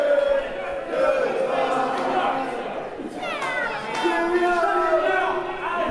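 A wrestling crowd at a PW Clash World Clash 2018 show sings together, a loud, sustained mass of voices with chanted melodic lines filling the arena, while a commentator talks over it.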